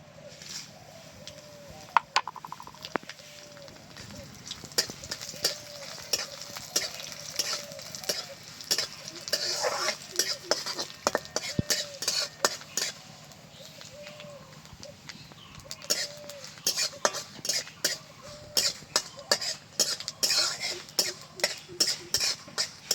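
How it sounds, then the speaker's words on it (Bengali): Dry red chillies and nigella seeds fry in hot mustard oil, crackling in scattered sharp pops and bursts over a faint hiss, with small scrapes from a stirring spoon. "লঙ্কা কালো জিরেটা খুব ভালো করে ভেজে নিয়েছি।"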